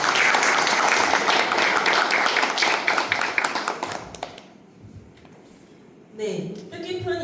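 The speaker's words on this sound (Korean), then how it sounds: "다시 한번 큰 박수 부탁드립니다" An audience at a lecture on carbon neutrality and energy transition applauds loudly, the clapping thinning out and fading to near silence before a voice starts speaking over a quieter room.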